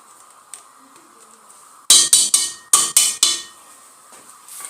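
Beef being pounded to tenderize it, a quick run of about seven sharp, loud knocks in two clusters after a quiet start, close by, with no talking.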